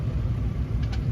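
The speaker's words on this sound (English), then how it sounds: "1975 IHC Scout 2" A 1975 IHC Scout 2 rolls past in a Red Power Roundup parade, its engine a steady low rumble close by, with no break across the brief moment.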